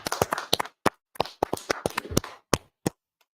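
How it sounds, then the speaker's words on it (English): Scattered hand claps from a small audience applauding a class, crisp and close, forming an uneven patter that thins out to a few final claps. "Clap it up for the class."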